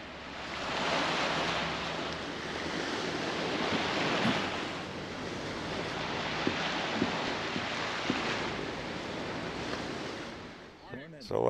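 Waves wash steadily on Lake Huron, heard from out on the water, a continuous broadband surf roar with gusts of wind noise hitting the microphone, loud and unbroken throughout.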